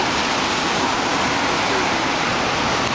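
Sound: surf sounds inside a beach cave in Bali

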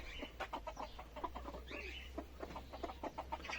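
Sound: broody hen clucking

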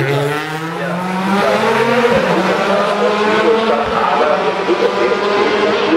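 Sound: Audi R18 e-tron quattro race car at Norisring

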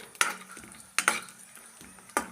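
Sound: vermicelli lightly frying in ghee

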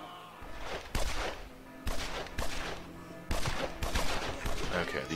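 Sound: gunfire in video game Evil Genius

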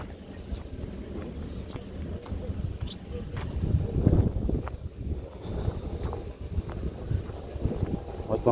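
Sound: wind suddenly picking up outdoors

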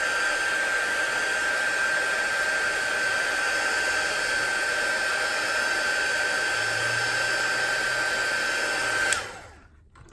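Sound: heat tool drying watercolour paint

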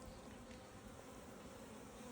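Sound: honey bees in a beehive with 15 frames

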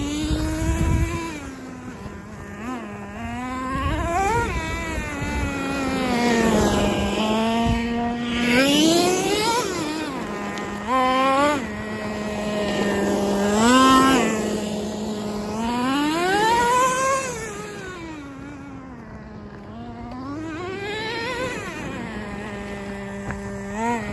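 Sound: Traxxas T-Maxx 2.5 nitro RC truck engine running on gravel

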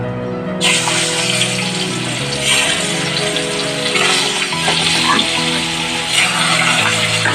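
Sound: katla fish being fried in hot oil in a wok

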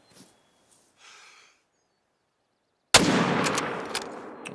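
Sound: hunting rifle shot in video game theHunter: Call of the Wild

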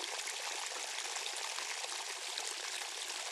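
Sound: free running water in ponds

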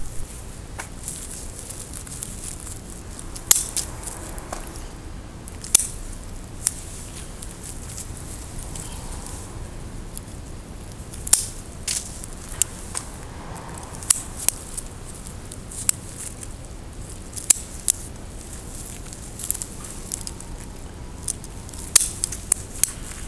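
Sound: pruning shears cutting Japanese cedar branches

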